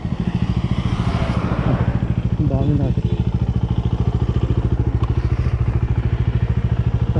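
A motorcycle engine idles with a steady, rapid chugging throb close by, while someone speaks briefly over it.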